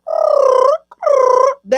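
A voice imitates the Ace Ventura Pet Detective bird call, producing two loud, sustained warbling hoots close to the listener, followed by a brief start of a third, with no speech.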